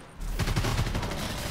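Rapid automatic gunfire from the video game Evolve rattles out in a close, dense burst lasting over a second after a brief quiet start.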